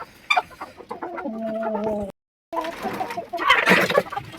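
Local chickens gather at a freshly filled water dish, clucking and murmuring near the microphone in short, uneven calls, with a brief silent break midway and a louder burst of fowl noise toward the end.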